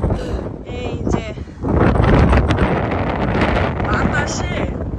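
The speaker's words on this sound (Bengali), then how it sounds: "বাতাসে ফোন টোন সব উড়াই নিয়ে যেতেছে আমার।" A strong cold wind buffets a phone microphone outdoors with loud, continuous roaring gusts that swell after a brief lull, while people talk over it.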